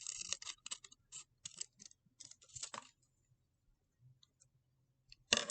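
Scissors make a quick series of crisp snips while trimming a rod puppet craft. They come in short bursts over about three seconds, close and clear, followed by quiet with a faint sound at the end.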